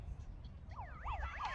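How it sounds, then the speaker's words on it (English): Final siren sounding at the end of an AFL women's match between the Giants and Demons in London, a wavering electronic siren rising and falling in repeated sweeps from about halfway through, over a low rumbling crowd and field background. "And final siren goes."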